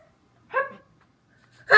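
A baby's hiccups, two short separate voiced bursts about a second apart, close and fairly loud in an otherwise quiet room.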